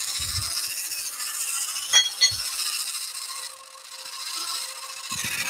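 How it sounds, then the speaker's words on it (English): Sandpaper rubs steadily against a wooden hollow form turning on a lathe, a continuous hiss with a couple of brief knocks and a short lull near the end. "I'm going to do a little bit of sanding."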